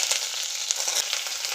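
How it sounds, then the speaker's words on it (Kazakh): Onions frying in two tablespoons of hot liquid oil, a close, continuous crackling sizzle with small spits and pops, no talking. "пиязымызды қуырып аламыз."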